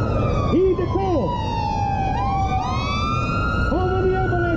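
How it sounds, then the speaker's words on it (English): An ambulance siren wails along a city street, its rising and falling tones loud and near, mixed with a second siren's yelps over steady traffic rumble. "How many ambulances have come by since we've been speaking?"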